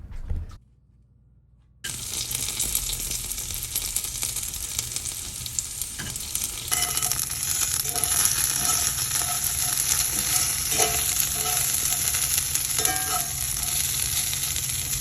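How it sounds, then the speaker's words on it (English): Salted, egg-coated cornmeal slices fry in a hot pan until crispy, a steady loud sizzle and crackle that flares after a brief silent start and holds up close, with no talking. "I salted the mixture in there and then fried it in a hot pan until they were crispy"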